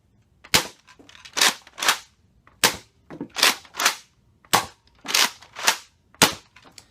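A Nerf Mega Rotofury blaster fires darts on a range, with about ten sharp, loud pops in quick succession, each followed by a short whooshing rattle of the priming action, close and without talk.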